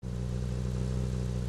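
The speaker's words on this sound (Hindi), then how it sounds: "सामने गाड़ी आ रही है।" A vehicle engine in the video game PUBG, a steady, loud motor drone running continuously throughout as the vehicle approaches.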